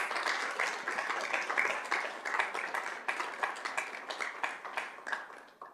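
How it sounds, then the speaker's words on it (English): A round of applause from the audience at a school district governing board meeting, steady, moderately distant clapping with individual claps standing out, lasting throughout without talk. "if we could give them a big round of applause"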